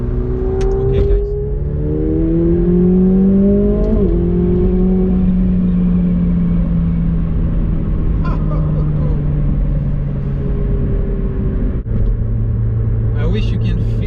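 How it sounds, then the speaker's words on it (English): A 2019 McLaren 720S accelerates hard through San Francisco streets, its loud exhaust rising through several gear changes before settling into a steady rumbling drone, with a few brief clicks along the way. "I wish you can feel the acceleration in your guts, the sound, the feeling, the vibrations, you know, and the exhaust is really loud"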